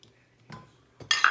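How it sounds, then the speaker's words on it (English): A utensil stirs cornbread batter in a bowl, giving a few separate clinks and scrapes, quiet at first and then a louder, brighter clatter near the end. "And mix this up."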